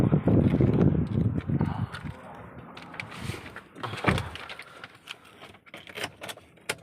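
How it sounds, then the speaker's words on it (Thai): Several short clicks and clunks, including a sharp one midway, come from a Toyota car as its doors lock by a freshly made folding remote key, over a quiet outdoor background. "หลังจากเราทำเสร็จแล้ว เรามาเทสที่รถกันครับ ล็อก"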